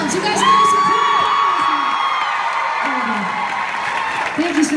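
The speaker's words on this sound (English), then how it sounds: "Why is everybody cheering?" A concert audience at an American Idol tour show cheers, whoops and shouts loudly and continuously, with high children's voices and scattered clapping in a dense, sustained roar.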